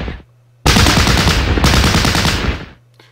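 Machine-gun fire on a bunker in the Battle Academy war game erupts suddenly as a loud continuous rattle for about two seconds, briefly renewing midway, then stops and leaves a quiet hum.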